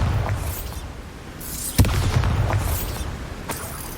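Bombarda spell explosion in Hogwarts Legacy on PS5, a sharp boom bursting out near the middle over a constant low rumble of game ambience, followed by fainter crackling debris and a smaller pop toward the end.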